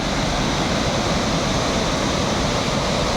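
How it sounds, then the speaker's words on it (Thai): A multi-channel waterfall in Thailand pours down several streams at once, making a loud, dense, unbroken roar of falling water with no voices. "ตกมาหลายช่องนะครับ ทำให้ดูดีเหมือนน้ำตกแองกาล่าครับ"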